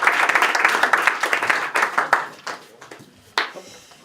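Applause from an audience at a Eurogame event, a dense patter of many hands that thins out and fades over a few seconds, with a last scattered clap near the end.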